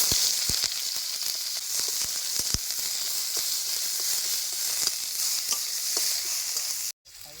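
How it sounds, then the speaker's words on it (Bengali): Constant close sizzle of onion and ginger frying in mustard oil in a wok, with scattered clicks of stirring, cutting off abruptly near the end. "পেঁয়াজ আদা ভাজা হয়ে গেছে"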